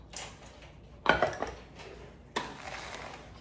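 A skillet handled among pots and pans in a home kitchen while cooking a beef short rib dinner: a few sharp metallic clanks and scrapes, one cluster at mid-clip and another later, fairly close and moderately quiet.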